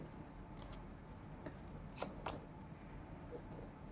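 Tarot cards are drawn from the deck with soft, faint papery slides and a few light flicks, quiet and close, with no talking.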